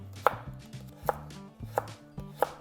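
A knife chopping onions on a cutting board, four sharp, evenly spaced thunks about two-thirds of a second apart, close and clear with no talk.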